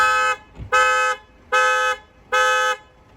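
A Seat Toledo car alarm blares through the horn in repeated loud, even tones, four long blasts with short gaps and a brief thump between the first two.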